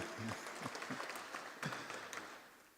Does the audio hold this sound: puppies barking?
no